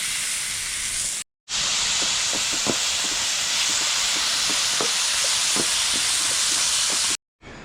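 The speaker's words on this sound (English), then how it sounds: "All right, that skillet is steaming" Hot skillet steaming over a campfire outdoors, a loud continuous broadband hiss with faint crackles and pops scattered through, broken by two brief dropouts to silence.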